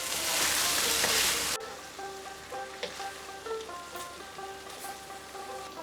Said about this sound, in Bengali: মিডিয়াম টু লো ফ্লেমে 2 মিনিট কষে নেব।